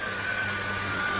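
Trucozie cordless stick vacuum cleaner running at high suction, a steady whining rush of air with a high tonal whine, continuous and close, with no one speaking.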